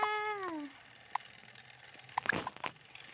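A house cat gives a clear, close meow at the start, followed by a few faint clicks and soft rustling knocks in an otherwise quiet room.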